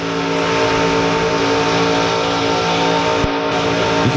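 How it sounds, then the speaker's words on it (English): A Lance Chevrolet race car driven by Jeff Purvis at Talladega in the 1998 Busch Grand National race roars at full throttle in tight two- and three-wide pack traffic, a loud, steady onboard engine drone with a brief thump near the end. "Riding along with Jeff Purvis in the Lance Chevrolet"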